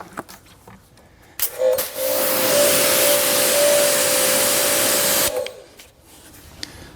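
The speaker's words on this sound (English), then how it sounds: "I don't like using this kind of pressure washer sitting around here" An EGO Power+ pressure washer sprays a car outdoors, a loud steady hissing jet running for about three and a half seconds between quieter moments, with a faint tone underneath.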